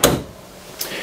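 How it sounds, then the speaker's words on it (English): A pot and pan drawer in the kitchen of a 2025 Brinkley Model Z Air 310 RV gives a short slide-and-bump at the start, then a second softer knock a moment later, close by. "pot and pan drawer here"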